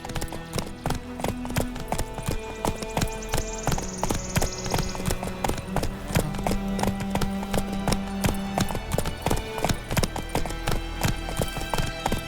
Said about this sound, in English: Come on, Roach. Slow now. Whoa.